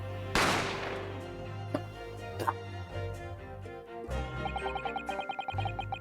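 A gunshot sound effect from the video game The Great Ace Attorney Chronicles cracks out sharply near the start, followed by lighter ticking clicks and a busier rhythmic stretch of game audio, with no voices.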